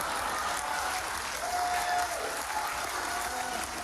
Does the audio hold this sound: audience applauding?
yes